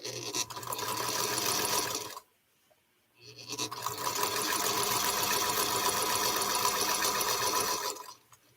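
A sewing machine stitches a quilt in two fast, loud, continuous runs separated by a one-second pause, its rapid whirring needle rhythm close and clear.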